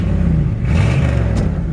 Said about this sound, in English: It's got a really nice sounding exhaust